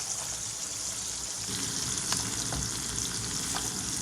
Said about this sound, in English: so we got the sauteed salmon